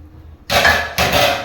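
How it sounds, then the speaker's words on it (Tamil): Water gushes into a cooking pot in two quick splashy bursts, close and fairly loud, with a short break between pours, while making jackfruit biryani. "இப்போ நம்ம அளவு தண்ணியை ஊற்றிக்கலாம்."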